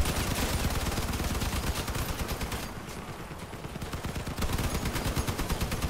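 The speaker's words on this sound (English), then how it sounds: "I'm shooting him, dude." Rapid vehicle weapon gunfire from the online car-combat game Crossout, dense automatic bursts firing almost continuously, easing briefly in the middle before picking back up, loud and close.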